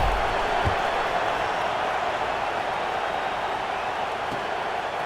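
Steady roar of a stadium crowd at a college football video game, EA Sports College Football 26, during a kickoff against UCLA, a continuous broad wash of noise with a few faint thumps and no clear talk.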